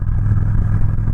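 An almost 800-pound Victory Cross Country Tour bagger with a 106ci engine accelerating hard, a loud, steady, close engine roar with a deep low rumble and no talking.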